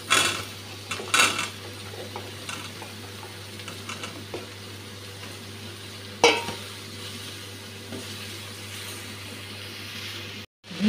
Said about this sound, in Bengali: ঝিঙ্গেটা প্রায় ভাজা হয়ে এসছে